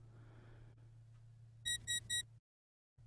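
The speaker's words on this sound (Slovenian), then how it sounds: "Če imate na programatorju vklopljen zvok, boste slišali serijo 3 piskov." Three short high electronic beeps in quick succession from a Medtronic neurostimulator patient programmer for Activa PC or Activa RC devices, clear and close over a low steady hum, followed by a moment of silence.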